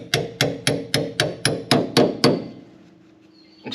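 A hammer strikes a chisel to bend back a clip on a truck trailer hitch. There are eight sharp, ringing metallic blows in a steady quick rhythm, then a pause and a faint final knock.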